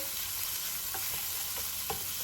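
Utensil scraping and stirring diced tomatoes in a pan over a steady background hiss of gentle sizzling, a few light clinks spaced out, no voices.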